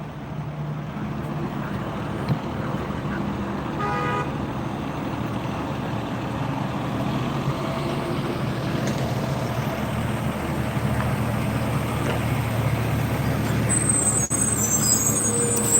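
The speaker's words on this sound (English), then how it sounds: "Yeah, here's a fire truck right here." A fire engine on a street after a crash, its heavy engine rumbling steadily at a moderate distance with a brief hiss of air brakes, no talking.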